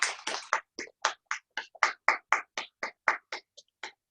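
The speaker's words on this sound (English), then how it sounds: "Let's give her a warm round of applause" Sparse, evenly paced hand claps from a small meeting audience welcoming the table topics master, about sixteen crisp separate claps close by with quiet gaps between them.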